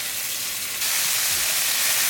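Ginger, garlic and green chili paste hitting hot olive oil with cumin seeds in a pan, a loud steady frying sizzle that jumps up sharply and continues as a close, bright hiss.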